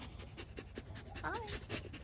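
A dog panting in quick, rhythmic breaths close by, with a person's voice briefly speaking over it.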